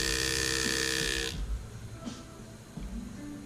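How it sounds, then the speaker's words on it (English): A pneumatic engraving graver cuts through metal with a steady high buzzing whine for over a second, then stops, followed by a few faint taps and light handling noises. "with a sharp graver with a pneumatic engraving system, the graver does glide through the metal"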